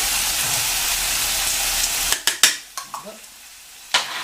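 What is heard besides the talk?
onions and tomato paste frying in a pot for boeuf bourguignon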